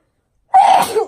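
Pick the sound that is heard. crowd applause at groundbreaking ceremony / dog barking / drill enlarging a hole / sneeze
sneeze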